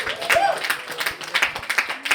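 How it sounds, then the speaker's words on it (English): A stand-up comedy audience claps and applauds in a steady patter of hand claps that fills the room at moderate level. "Clap it up if you got Pfizer."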